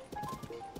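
A horse's hooves clip-clopping as it is steered off the road in Tears of the Kingdom, a quick run of soft, close hoof beats lasting under a second.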